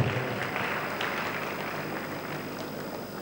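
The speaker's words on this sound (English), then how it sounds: "A round of applause for her." Audience clapping at a university gala and award night, a steady, even wash of many hands sustained throughout at moderate level, no talk over it.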